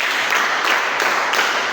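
A group claps in an even rhythm during a counting game, the bursts of applause-like clapping coming about every third of a second at a steady moderate loudness, with no talk over them.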